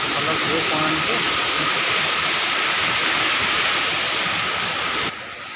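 Machodia waterfall in Odisha, a steady broadband roar of rushing, falling water, loud and constant throughout, easing slightly at the very end.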